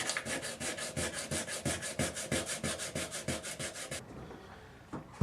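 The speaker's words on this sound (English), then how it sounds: "Sanding is finished." Rhythmic back-and-forth rasping of sandpaper on wooden hand guards, about two strokes a second, close and steady, stopping abruptly near the end.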